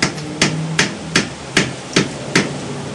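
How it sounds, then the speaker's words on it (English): A wooden chisel is struck to knock out limestone oven base blocks, seven sharp, evenly spaced knocks about half a second apart, close and loud. "this is a wooden chisel I'm using"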